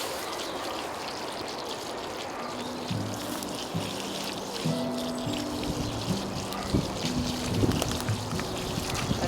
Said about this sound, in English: So I'm just going to give them a watering.